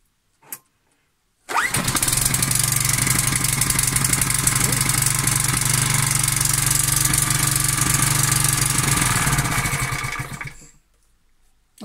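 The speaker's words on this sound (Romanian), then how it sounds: "Să încercăm să pornim așa cu piciorul." A four-stroke engine kick-started by foot catches after a short thump, then runs loud and steady with a rough, knocking idle for about nine seconds before cutting out to silence.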